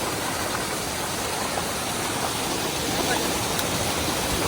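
A waterfall in Ratnagiri's Lanja area of the Konkan during the rains, heard as a continuous loud broadband rush of falling water with no break.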